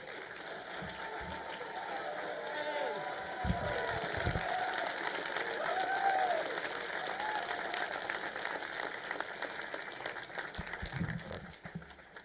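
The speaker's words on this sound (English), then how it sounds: "give him a big, warm Nexus Conference round of applause for Dr. Stephen Greer" Conference audience applauding for Dr. Steven Greer at the Nexus Conference, a sustained, moderately distant wash of clapping that fades toward the end, with faint voices beneath.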